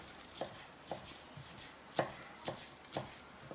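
A kitchen knife chops fresh basil on a cutting board with about seven crisp, evenly spaced taps, each short and distinct against a quiet room.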